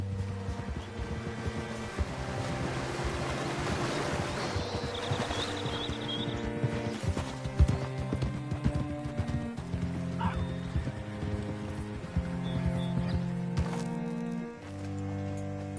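Horse hoofbeats from riding in Red Dead Redemption 2, a steady clip-clop under a dense bed of game music, with a whinny or neigh partway through and no talk.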